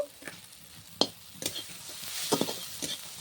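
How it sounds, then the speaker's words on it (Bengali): Chili and turmeric powder fry in a pan for paneer butter masala, a soft sizzle with several sharp scraping stirs, fairly quiet and close. "মশলাটা কষিয়ে নিয়েছি"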